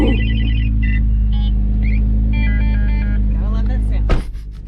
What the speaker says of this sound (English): To start this car, pull the brake and press the big red button.